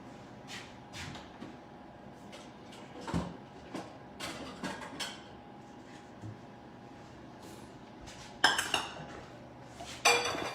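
Bowl and dishes clinking and clattering while sauce is served in a home kitchen, scattered light knocks and scrapes of ceramic and cutlery, with two louder clanks near the end.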